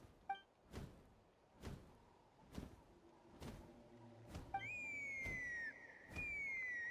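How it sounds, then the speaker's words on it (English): A shrill, sustained whistle sounds in Genshin Impact, preceded by a series of regularly spaced dull thumps. The clear tone then holds for a couple of seconds, briefly dips and rises again near the end, with no speech. "That sounded like a whistle."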